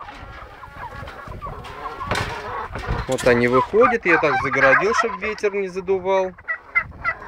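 Turkeys gobbling and ducklings calling in a yard, with someone talking over them close by; bursts of harsh, warbling calls through the middle.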